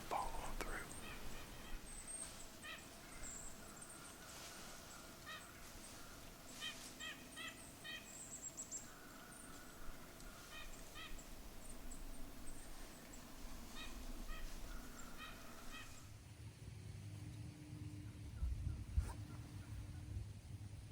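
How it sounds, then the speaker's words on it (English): Wild turkeys gobble in the woods, with a series of short, bright, rattling calls repeating over several seconds, faint and distant against a quiet outdoor background before a low rustling takes over. "Turkeys."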